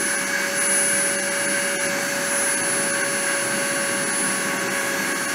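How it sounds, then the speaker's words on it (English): A deposition machine spins up with a steady, loud whirring drone and a high constant whine, unbroken and alone for several seconds. "spin the lot and start the deposition"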